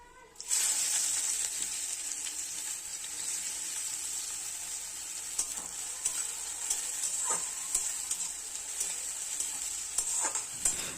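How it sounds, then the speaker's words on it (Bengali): Chopped onions fry in a kadai with whole spices for chicken kosha, making a strong, continuous close sizzle broken by repeated stirring scrapes and clinks. "এবার কড়াইতে গোটা মশলাগুলো ফোড়ন দিয়ে পেঁয়াজ কুচি দিয়ে ভালো করে ভেজে নিয়েছি"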